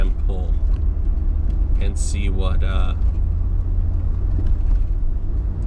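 Engine of a 2006 Chevrolet Tahoe Z71 pulling toward 4,000 RPM, a steady loud low rumble from inside the cab with a voice speaking briefly over it.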